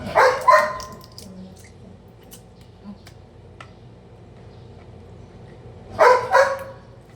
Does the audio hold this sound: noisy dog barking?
yes